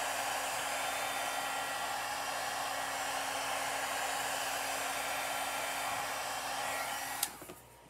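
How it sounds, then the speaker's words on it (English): A small heat gun blows hot air in a steady, even whoosh used while crafting, running continuously for about seven seconds before switching off with a click. "A little heat tool."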